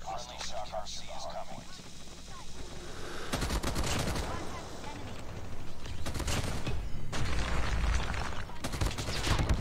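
Submachine gun fire rings out in the mobile shooter Call of Duty: Mobile. Loud, rapid bursts start a few seconds in and repeat in close succession, after quieter game sounds at the start.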